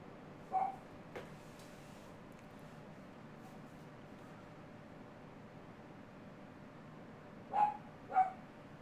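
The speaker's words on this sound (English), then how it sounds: "if you hear my dogs barking" Dogs bark in the distance, with one bark near the start and a quick pair near the end, faint against a steady hiss of background noise.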